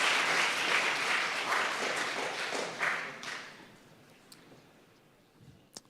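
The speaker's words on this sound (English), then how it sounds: "I think everyone deserves a round of applause." Councillors and attendees at a council meeting clap for newly elected members, a dense burst of applause that thins and fades out over several seconds, leaving a few scattered final claps.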